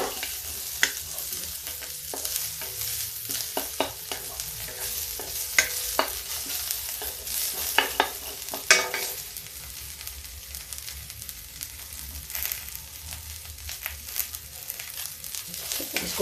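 Finely sliced garlic and onion sizzle in hot oil in a pan with red chili, crackling steadily as a spoon stirs and scrapes through them at intervals.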